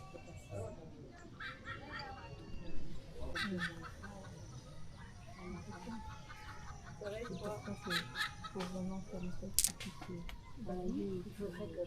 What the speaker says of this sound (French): Et évidemment, le doux chant du coq.